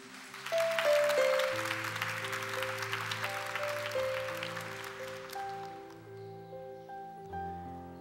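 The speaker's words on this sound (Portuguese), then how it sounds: "Vamos aplaudir a palavra de Deus" A church congregation claps together after the Gospel reading at a Mass, the dense clapping running for about five seconds under sustained keyboard chords before thinning out while the music carries on.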